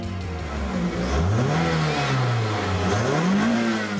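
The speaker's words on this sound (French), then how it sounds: "Plus bruyant que réellement mélodieux, ce 1800 cm3 multi-soupape à distribution variable développe 143 chevaux" A Toyota Celica's 1.8-litre 16-valve variable-timing engine revs up and down close by, a raspy, noisy tone rising, dipping and climbing again over four seconds.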